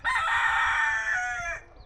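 A rooster crows close by, loud and clear, in one long drawn-out call on a small farm with goats.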